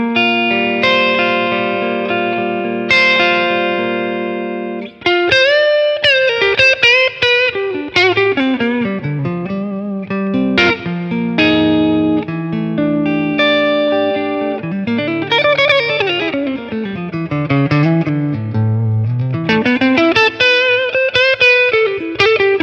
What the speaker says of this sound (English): Let's add some reverb to it.